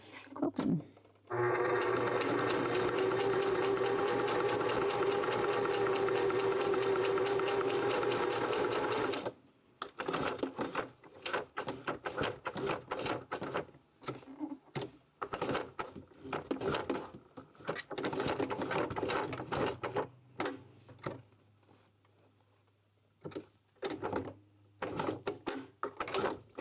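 A sewing machine quilting rope coasters runs in a loud, steady whir for several seconds, then breaks into short, irregular stitching bursts and pauses, close by.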